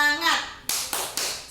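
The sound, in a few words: group clapping a rhythmic spirit clap (tepuk semangat)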